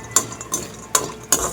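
Spice mix is tossed in hot oil in a pan, with four sharp metallic utensil clinks from flipping and stirring over a faint background sizzle, close and with no talking.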